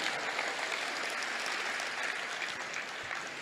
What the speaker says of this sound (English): Let's give Scott a tremendous round of applause